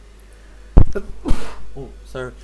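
A single sharp sneeze bursts out close by, followed by a brief apology and more talk from others.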